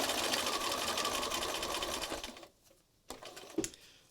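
A sewing machine stitches a mixed-media collage card in a close, rapid mechanical whir that runs steadily, stops abruptly, then gives a few short bursts.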